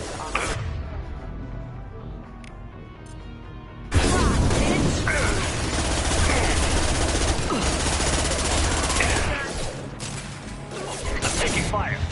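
Sustained gunfire and crashing impacts in the Mass Effect 2 Legendary Edition video game, a steady battle din that jumps louder about a third of the way in and continues with dense overlapping shots.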